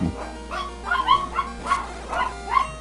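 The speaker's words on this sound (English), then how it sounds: "I'm gonna mute myself real quick so I can deal with these dogs barking." Several dogs bark and yip in a quick irregular series of sharp woofs at moderate distance, heard in a home during a livestreamed Pokemon game session, with no voices over them.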